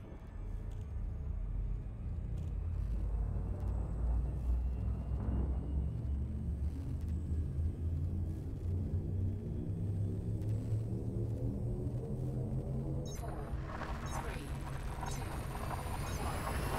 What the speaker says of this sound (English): Gunship drive charging.